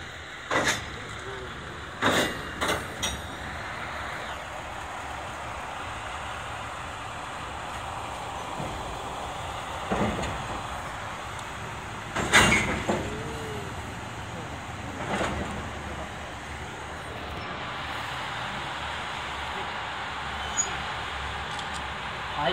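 A JR Central KiHa 85 diesel railcar rumbles slowly onto a turntable at close range at a depot open day, with occasional clanks and knocks over steady engine noise and faint voices.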